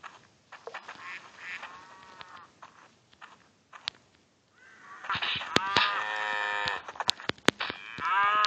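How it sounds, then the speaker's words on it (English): Cattle mooing in a game, several drawn-out harmonic moos, the loudest and most crowded in the second half, mixed with sharp clicks and game effects; no talk. "Now let me kill that cow!"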